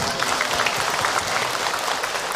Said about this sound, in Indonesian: ya setelah itu tepuk tangan buat Abi Ibu.